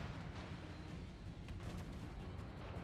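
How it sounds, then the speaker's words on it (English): An artillery shell strikes a ship in a naval combat game, heard as a dense, rumbling blast that fills the whole moment but stays quiet and distant. "That was a solid artillery."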